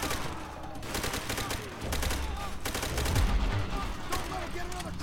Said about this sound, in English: They're shooting through the damn wall!